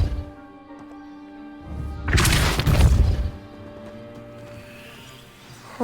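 A Depulso spell blasts apart a piled obstacle blocking a stairwell in Hogwarts Legacy, a loud crashing smash with rumbling debris over a steady musical backdrop, fading back to quiet music.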